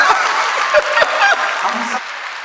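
Audience applause at a Hindi hasya kavi sammelan comedy poetry gathering: a steady wash of clapping from a crowd throughout, with a brief voice or tone near the end as the clapping thins.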